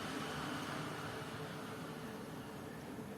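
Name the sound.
electric fan running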